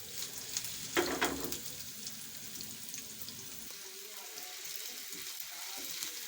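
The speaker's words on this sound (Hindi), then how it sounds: "इन्हें भी हम फ्राई कर लेते हैं।" Chopped garlic and ginger fry in a pan with a soft, steady sizzle, with a brief clatter near the start and faint kitchen sounds underneath.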